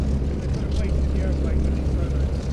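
A vintage World War II fighter, a Spitfire or Me109, comes in to land with flaps down, its engine a steady low drone throughout.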